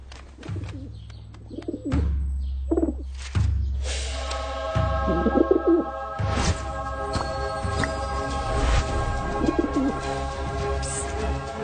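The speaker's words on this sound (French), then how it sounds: "celui qui a introduit le pigeon en classe" A pigeon loose in a classroom coos repeatedly, close and clear, with soft throaty calls recurring every second or two over a quiet room hum.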